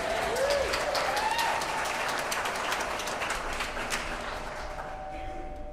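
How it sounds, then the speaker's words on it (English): Church congregation applauding two young singers at a Sunday morning service, steady broadband clapping filling the room for several seconds with faint tonal sounds drifting over it. "a nice round of applause for our 2 young ladies singing with us."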